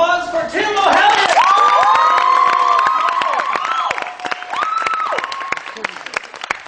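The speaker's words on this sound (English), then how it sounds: "let's get a big round of applause for Tim O'Halloran" A live stand-up comedy audience claps and cheers for comedian Tim O'Halloran, with whoops and shouted voices over a bed of applause that stays loud, then thins into scattered claps.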